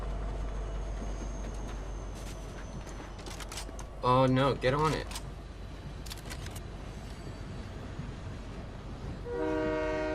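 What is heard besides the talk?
train moving in Fortnite video game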